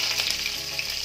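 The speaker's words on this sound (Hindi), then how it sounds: "और ये कड़ी पत्ता है वो मैं डालती हूँ." Ajwain and curry leaves sputter in hot oil, a brief burst of dense, crackling sizzle heard up close without any voices.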